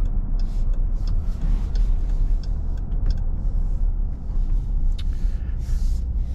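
A 2024 Dodge Durango R/T SUV with a 5.7-litre V8 Hemi rolls along at low speed, giving a steady low road and engine rumble from inside the cabin with faint ticks and rattles on top.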